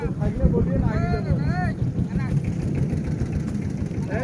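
A boat's engine idles and churns steadily on a river as it prepares to depart, with wind buffeting the microphone and a voice talking over it throughout.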